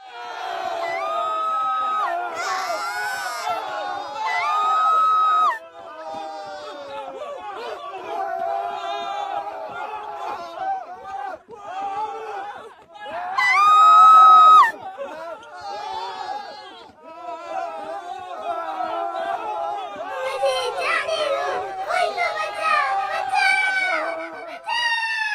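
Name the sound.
people screaming and crying out during night attack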